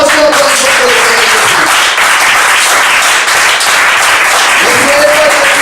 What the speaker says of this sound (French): Acclamation pour le Seigneur Jésus.